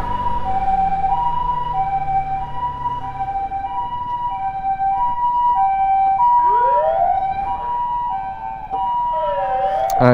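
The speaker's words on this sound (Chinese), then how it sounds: "哎，先让他们救护车过去。" A loud wailing ambulance siren cycles steadily on a road, then sweeps down in pitch as the vehicle passes close by, with traffic rumble beneath.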